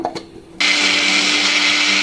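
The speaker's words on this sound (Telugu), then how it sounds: "ఇవి కూడా వేసి మనము మిక్సీ పడదాము" A mixer grinder grinding coconut and spices suddenly whirs to life after a brief quiet clatter, running loud and steady at close range.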